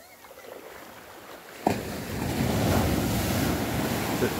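Storm-swell surf at Garopaba beach, Brazil, surges in after a quiet windy stretch, a sudden thump followed by a loud, rolling roar of breaking waves and rushing water under steady wind noise.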